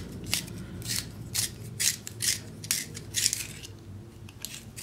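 A broken pencil being sharpened, a series of short, close, scratchy grinding bursts in an irregular rhythm with brief pauses between turns, fairly quiet and with no talking.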